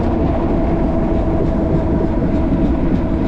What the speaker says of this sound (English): We're faster than the train.